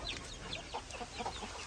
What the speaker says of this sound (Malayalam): ഇത് നമ്മളെ മുട്ട കോഴികളാട്ടോ.